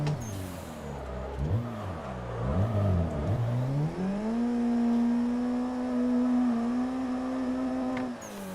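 A video game car drifts under a direct drive wheel, its engine revving up and down in rapid swings before settling into a steady, sustained high tone. No voices are heard.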